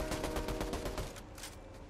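Rapid gunfire in the video game Fortnite, a quick rattling burst of many closely spaced shots that eases slightly toward the end.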